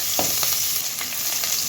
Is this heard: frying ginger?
yes